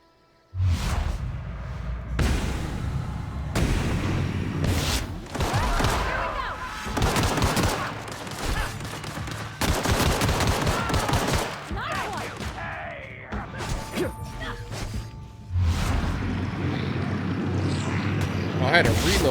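Gunfire rattles in The Outer Worlds played on Nintendo Switch, with repeated bursts and shots over several seconds in a firefight, mixed with game effects and someone talking over the action.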